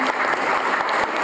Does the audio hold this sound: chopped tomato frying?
no